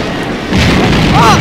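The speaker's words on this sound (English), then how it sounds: "Explosions!" Video game explosions: a deep, loud boom bursts in about halfway through, followed by sustained rumbling and a brief high whine near the end.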